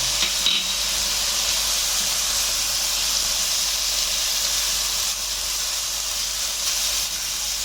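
Onion frying in a pan with ginger garlic paste gives a steady, close, loud sizzle with a hissing, steamy texture that runs unbroken throughout and carries no voices.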